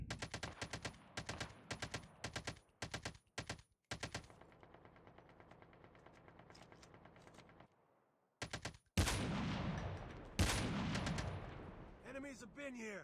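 A shooter video game fires rapid bursts of gunfire in close, repeated volleys and then pauses. Heavier blasts and rumbling effects follow, with faint voice-like sounds mixed in.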